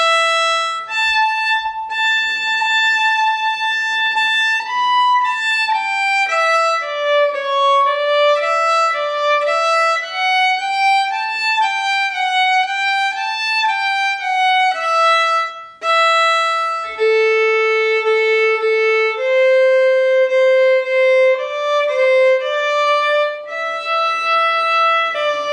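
A solo fiddle plays the alternate B part of the old-time tune Cold and Frosty Morning, a clear, fast run of bowed melody notes with a brief pause midway, with no talking.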